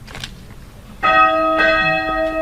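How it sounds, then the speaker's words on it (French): Odile, a small church bell, is struck twice about half a second apart. Each strike is clear and bright, and its tone lingers in a long ringing decay after a quiet lead-in. "vous allez entendre la petite cloche Odile"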